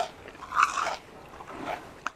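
A few crisp crunches from biting into the thick fried batter of a chicken fried steak, close and fairly quiet, with a short pause between bites and no talking.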